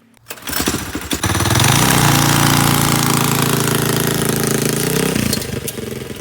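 An ATV fitted with a 30 series torque converter and a 9-tooth sprocket accelerates down a road, its small engine revving up into a loud, steady buzzing drone before easing off.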